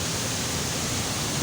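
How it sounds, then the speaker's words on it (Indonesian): Steady, dense rush of falling water at Bantimurung waterfall, a constant broadband roar with no breaks or voices, loud and close throughout. "mendengar suara air mengalir ini bahkan membuat kita tenang"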